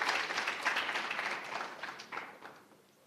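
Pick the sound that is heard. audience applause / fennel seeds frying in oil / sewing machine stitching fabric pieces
audience applause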